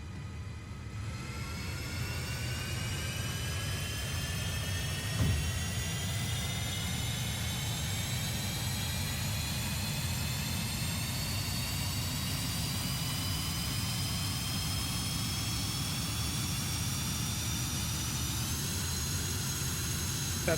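The left engine of an F-5E Tiger II jet in the DCS flight simulator spools up from start, a steady whine rising slowly in pitch over a low rumbling roar, close and continuous with no talking.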